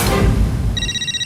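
A telephone rings in a Hindi comedy household scene, its bright electronic ringtone coming in near the end as a short repeating burst over an earlier wash of low background noise.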